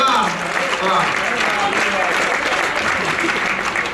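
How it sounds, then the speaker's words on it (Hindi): A large crowd at a Hindi poetry gathering in Ghaziabad claps loudly and steadily for the full stretch, with some voices mixed into the dense applause. "एक बार जोरदार तालियां।"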